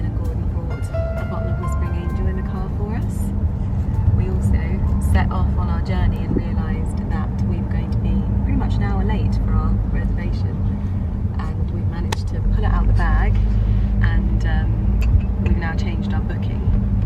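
Interior of a car heading down to London, a steady low road rumble and engine hum running throughout, with people talking over it much of the time.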